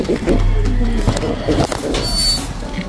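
Pigeons in a loft on a farm, with soft cooing and bird sounds near the listener, mixed with a person talking and some rustling throughout.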